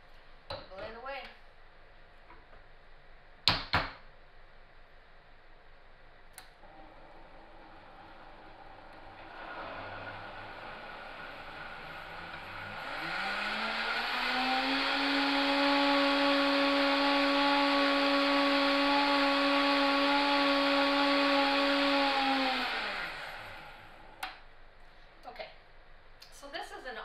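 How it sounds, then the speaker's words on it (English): A blender whirs loudly for about ten seconds, blending chaga tea with honey, its motor spinning up, holding a steady pitch and then winding down, with a few knocks and handling sounds before and after. "We're going to throw it in the blender."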